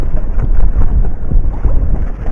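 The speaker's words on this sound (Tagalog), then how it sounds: "Mas lalong lumakas ang hangin." Strong northeast monsoon (amihan) wind at sea aboard a fishing boat, a loud continuous low roar and buffeting with gusty surges across the whole stretch, no voices.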